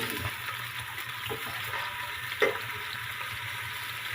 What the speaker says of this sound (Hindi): ऑयल गर्म हो गया है हल्का सा और प्याज डाल दूंगी